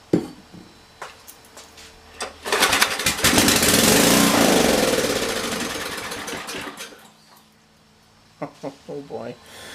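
A 10 HP Briggs engine driving a generator revs up loudly for several seconds and then winds down, with a person talking nearby before and after the run.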